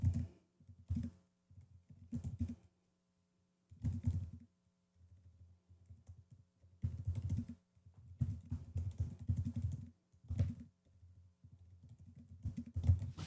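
Typing on a computer keyboard comes in irregular bursts of close, crisp key clicks separated by short pauses, with a faint low hum underneath.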